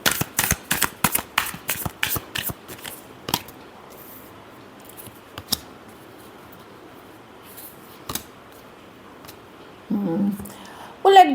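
Tarot cards are shuffled close by in a quick run of crisp riffling slaps, then fade to a few isolated taps with long quiet gaps and a brief low murmur near the end.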